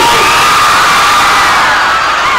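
Loud, sustained crowd cheering with many voices shouting together, an unbroken roar that barely dips throughout.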